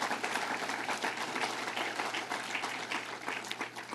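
Applause from the audience at a New York governor's tax fairness campaign event, a steady, moderately distant clapping that holds for several seconds.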